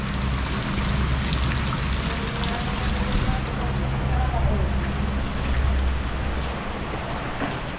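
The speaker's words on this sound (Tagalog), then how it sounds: "maghapon na yung ulan na walang tigil. Napakalakas." Heavy rain pours steadily, a dense continuous hiss with a low rumbling undertone that holds throughout and eases slightly near the end.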